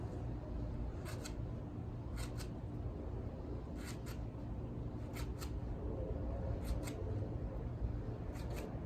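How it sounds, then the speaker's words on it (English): A Spyderco Stretch 2 folding knife with a K390 steel blade slices through material several times, each cut a short crisp rasp repeating in pairs at a steady pace over a constant background hum of an HVAC unit. "Go ahead and cut this a couple times."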